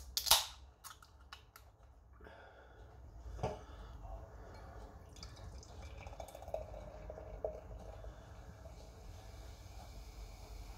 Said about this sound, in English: let's see what we've got to pop the top.